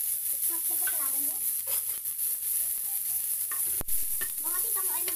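Cumin seeds, whole coriander, ginger and green chilli sizzle and fry in a little oil while being stirred in a pan, with a constant crackling hiss and scraping spoon strokes, and someone talks over it.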